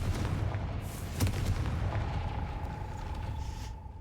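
A Confringo blasting spell from the Hogwarts Legacy video game goes off with a dense low rumbling burst, a sharp boom near the middle, then a thin sustained tone over lingering low rumble.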